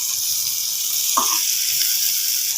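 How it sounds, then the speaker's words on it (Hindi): Green chillies fry in a hot pan with oil, giving a loud, continuous close-up sizzle and hiss that stays constant throughout. "मिर्चों को भी हमें थोड़ी देर के लिए फ्राई करना है"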